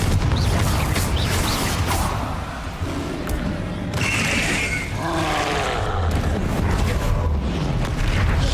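Fiery Confringo spell blasts in the Hogwarts Legacy video game, a dense roaring burst with rumbling booms and crackling impacts that stays loud throughout, layered over busy combat effects.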